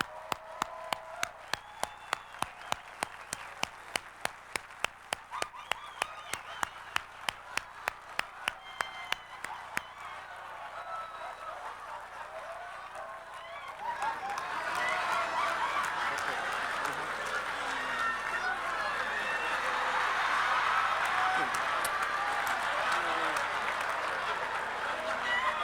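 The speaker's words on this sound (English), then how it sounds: "Give her a round of applause." Sharp individual claps ring out in a fast steady rhythm for several seconds before a fuller crowd joins in, the applause swelling into a loud sustained roar as a grandmother is brought onto a stage at a live show.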